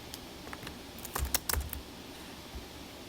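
Typing on a computer keyboard: a handful of close, crisp key clicks, sparse at first, then a quick cluster in the middle and one last tap near the end, with no voices.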